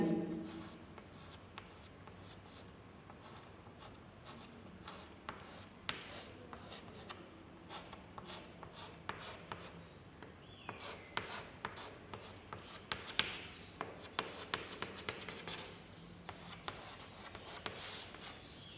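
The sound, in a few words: pen writing letters in a notebook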